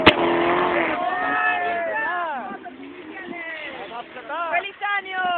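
A racing car, the second of two, speeds over snow, its engine revving hard and falling away in repeated pitch sweeps as it shifts and passes, loud at first, then fading and returning.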